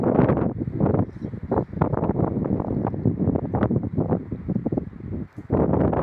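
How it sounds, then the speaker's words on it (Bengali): Strong wind blows across a hilltop, buffeting the microphone in loud, gusty low-frequency rumbles that surge and drop continuously, close and dominant with no other clear sounds. "একটু বাতাসের গতির সাউন্ডটা শুনুন।"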